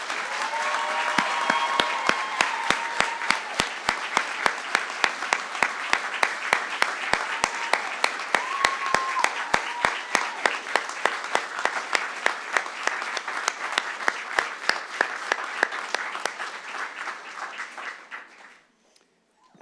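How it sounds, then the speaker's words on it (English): At a spring 2021 Army ROTC commissioning ceremony, an audience gives the new lieutenants of Class 2021 a long, steady round of applause. Dense clapping fills the hall for nearly twenty seconds before tapering off at the end. "let's give the new lieutenants of Class 2021 one more round of applause."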